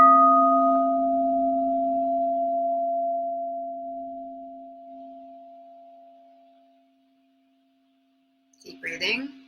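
A crystal singing bowl, held against the body, hums on with steady pure tones that gradually die away into silence, followed by a brief faint voice near the end.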